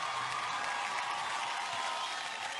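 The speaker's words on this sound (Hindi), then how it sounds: "जैकलिन के लिए जोरदार तालियां हो जाए एक बार।" A large audience claps steadily for Jacqueline Fernandez at the Star Guild Awards 2016, a dense, even wash of applause holding at a constant level throughout, with no voices heard over it.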